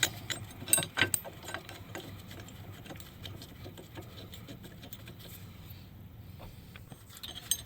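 A torque wrench ratchets while tightening transmission bolts on a 2013-2017 Hyundai Veloster 1.6L dual clutch, a quiet, fast clicking run in a garage, loudest at the start and fading to a soft steady background.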